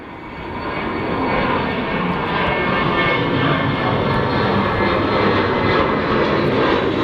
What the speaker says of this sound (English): Oh my god, that rotated so early to the point where I couldn't even see it on the runway.